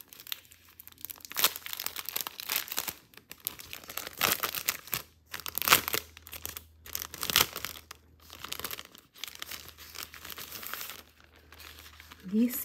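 Thin, tissue-like specialty paper printed with paint designs is opened by hand, giving bursts of close crinkling and rustling with short pauses between handlings.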